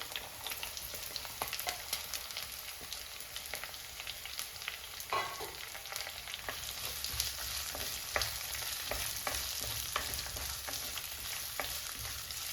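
Chopped small shallots frying and being stirred in a pan for Kerala-style sardine curry, a steady close sizzle with scraping stir strokes throughout, no voices.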